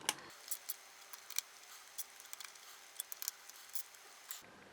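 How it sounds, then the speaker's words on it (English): A ratchet tightens the barrel clamp screws on a Leshiy 2 air rifle being fitted with an STX barrel: a quiet run of small, irregular clicks close by, with no talking. "I'll just tighten up the clamp screws here with my handy dandy ratchet"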